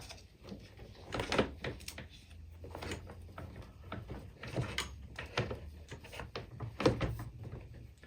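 A plastic bagger door on a Greenworks DT13B00 electric dethatcher is lowered shut over the hooked bagger, giving a few soft knocks and thunks amid quiet handling noise and background rustle.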